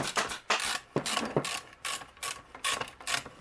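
A socket wrench ratchet works a bolt on a 1951 Ford truck seat, giving repeated bursts of quick metallic clicking in an uneven rhythm, close and clear with no talk.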